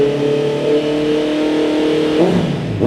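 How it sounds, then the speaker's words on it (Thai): A 2022 Honda CB650R motorcycle fitted with a Tron Speed carbon exhaust revs up close by, a steady engine drone rising sharply in pitch near the end as the throttle is blipped. "มาฟังเสียงท่อคันนี้กันครับ"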